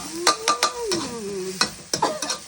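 Pork stir-fried in plenty of oil sizzles under quick, rhythmic scraping and stirring strokes in a pan, with a faint voice-like tone running through the busy frying noise.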